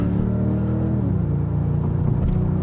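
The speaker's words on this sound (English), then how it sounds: "I really do like that sound. It has that little bit of a 60s sports car burble." A 2022 Genesis G70 Shooting Brake engine burbles with a deep, steady low rumble close up, its pitch stepping down once partway through, with no talk over it.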